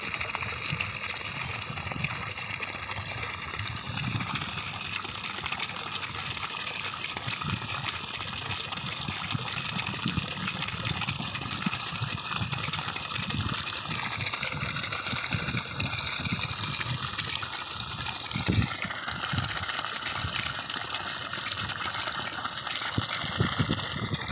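Muddy water flushes steadily out of a drip irrigation pipe in a drumstick plot, a continuous gushing and splashing flow with a low engine or pump hum underneath, unbroken for the whole stretch.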